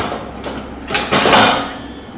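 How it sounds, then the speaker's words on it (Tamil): A metal pressure cooker lid clatters and scrapes as it is set down inside a dishwasher rack, a short, loud clunk followed by a brief slide. "குக்கர் மூடி குக்கர் மூடியை நம்ம உள்ள வச்சிடலாம்"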